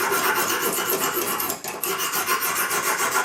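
A knife blade is drawn across a Lansky sharpening stone, a loud close rasping scrape that repeats in steady strokes with a brief pause midway.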